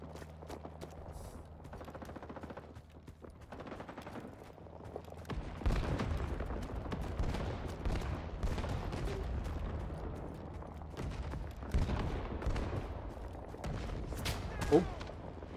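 Sustained gunfire from the Vietnam War shooter Rising Storm 2: Vietnam, with quieter distant shots at first, then dense, loud volleys and bursts from about five seconds on, plus an occasional sharper crack nearer the end.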